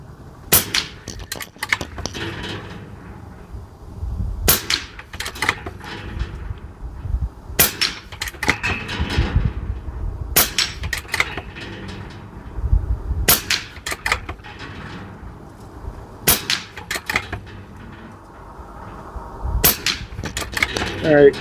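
A Barra 250z .22 caliber air rifle firing pellets at metal targets, paddles and spinners: seven sharp, evenly spaced cracks, each followed by a quick ring of the struck target, with someone talking between the shots.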